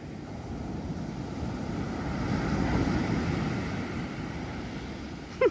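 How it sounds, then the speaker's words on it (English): Ocean surf rolling onto a beach under steady wind, a broad continuous wash of breaking water that swells and fades, with a brief sharp knock near the end. "Look at those cool waves you're missing out on."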